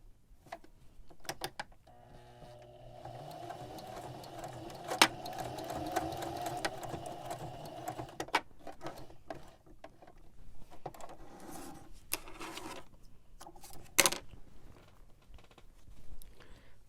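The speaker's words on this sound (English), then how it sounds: "let's edge stitch this other edge down" Domestic sewing machine edge stitching an apron in a small space: a steady close whirring run of several seconds, framed by clicks and handling knocks before and after, with no voices.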